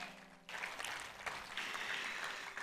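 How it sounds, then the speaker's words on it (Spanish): Congregation clapping during a church sermon, starting abruptly after a brief quiet moment and continuing as scattered, uneven hand claps at a distance, fairly faint overall. "Alguien que le dé un aplauso al Señor por eso."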